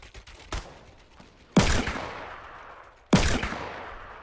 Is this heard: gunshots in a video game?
yes